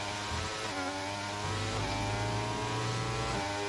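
Racing car engine in F1 23 on a qualifying fast lap at the Brazil circuit, a loud, steady high-pitched whine with rising and falling revs through gear changes, close and continuous without talk.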